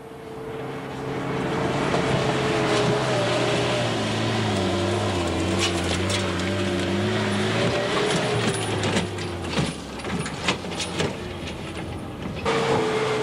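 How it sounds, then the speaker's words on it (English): A short wheelbase Pajero towing a heavy fuel trailer over sand dune ridges gives a loud, sustained engine drone that rises and falls in pitch as it labours, with rattling and clattering toward the end. "Ross still needs a good run at them to get the short wheelbase Pajero and the heavy fuel trailer over the top"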